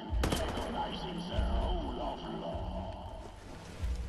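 Gunfire from the shooter game Wolfenstein: The New Order crackles in repeated bursts over a dense, rumbling game soundscape, with a person talking over the action.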